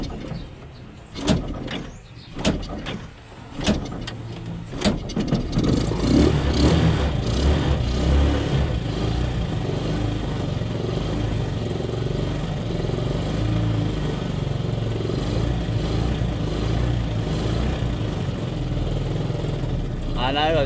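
A motorcycle engine is kicked or cranked a few times in short bursts, then catches and runs with a steady, close rumble for the rest of the stretch, while birds coo nearby.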